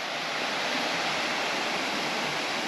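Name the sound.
Manneera waterfall flowing water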